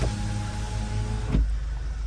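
Power windows on a 2014 Audi A4 2.0T hum steadily as a motor drives a window glass for about a second and a half, then stop with a soft thump, heard close inside the car.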